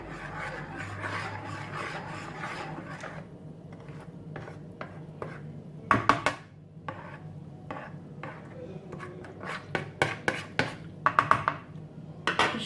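Spoon scrapes and knocks around a bowl while pizza dough is mixed, with a steady rubbing swish early and then irregular sharp clinks and taps against the bowl.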